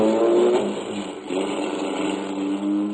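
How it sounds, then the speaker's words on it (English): A car on a cold, snowy January night in quiet streets, its engine droning steadily and close by, with a brief dip before the steady engine tone resumes. "The car shot out of a side street only moments after I heard it start."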